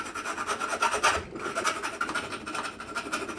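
A fabricated metal part is deburred by hand, giving a close, continuous rasping scrape in quick repeated strokes as the edges are taken off.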